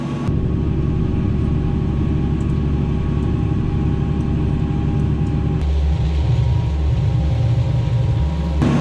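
Tractor engine running in a gravelly field, a loud, steady diesel rumble close by that carries on throughout and shifts in tone partway as the load changes, with no voices.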